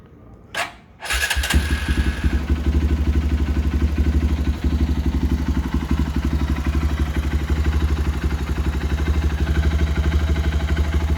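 Honda XR150 motorcycle with an aftermarket exhaust cranks with a short starter whir, catches and then settles into a steady, loud, close-up idle with a rapid even exhaust putter that runs on without voices.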